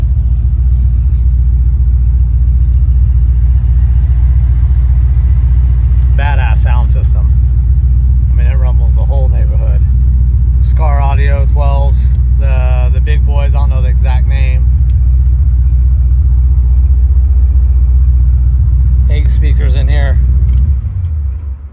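A 1970 twin-turbo Chevelle restomod with a six-speed Magnum transmission cruising on the freeway. Its deep, steady engine and road rumble fill the whole clip while someone talks in short stretches over it.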